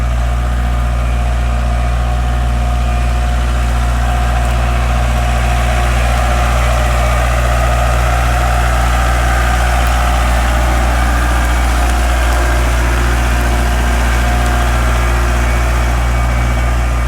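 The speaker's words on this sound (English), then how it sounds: "Tractor heading down the new road." A tractor engine runs steadily with a deep, constant rumble, unchanging and fairly loud throughout, with no voices.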